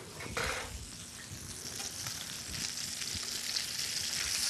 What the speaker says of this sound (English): So we're going to sear one side.